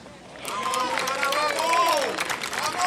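Golf gallery at the LPGA's 2023 The Annika final round applauding a birdie putt, moderate steady clapping and cheering rising over a few seconds with crowd murmur underneath.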